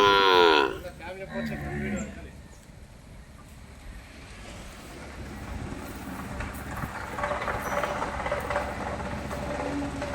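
A Gir cow moos loudly near the start at a cattle shelter, a second lower moo follows, then wind and open outdoor ambience fill the rest.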